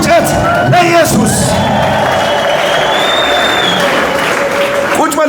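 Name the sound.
congregation ululating, clapping, shouting and whistling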